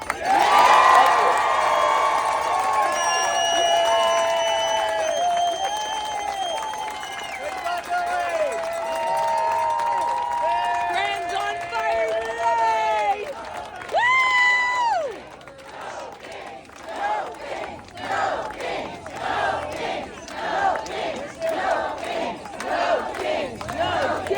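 A rally crowd at a No Kings Day event roaring with loud sustained cheers and shouts, then breaking into rhythmic clapping and chanting that pulses toward the end.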